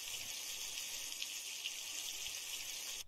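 Water pours steadily from a jerry can as it is drunk in the survival driving game The Long Drive, a smooth close gushing that holds evenly for about three seconds and then stops abruptly.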